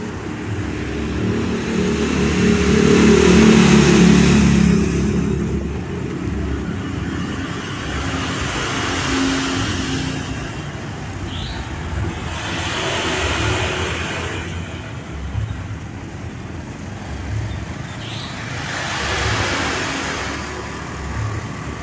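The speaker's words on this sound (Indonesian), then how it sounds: "Lebih ditambah kendaraan roda 4 ini, jadi sulit untuk menyalip." Slow, congested road traffic of four-wheeled cars on a busy road being widened between Gondanglegi and Balekambang, a steady engine drone with several passing vehicles swelling and fading at intervals, one louder surge early on.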